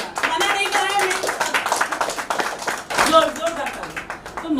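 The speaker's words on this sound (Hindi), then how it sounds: "जोरदार तालियां, मना नहीं कर रहे हैं," Audience clapping at an award event: scattered, rhythmic handclaps from a crowd run throughout, mixed under a speaking voice, rising again toward the end.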